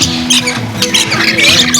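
A parrot at Parrot Mountain, a bird garden in Pigeon Forge, Tennessee, squawks loudly and close in a burst of harsh, repeated calls.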